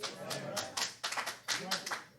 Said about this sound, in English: Only a couple claps, I understand.